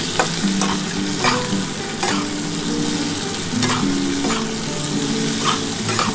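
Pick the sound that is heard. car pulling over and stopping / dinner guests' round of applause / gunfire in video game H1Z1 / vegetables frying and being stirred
vegetables frying and being stirred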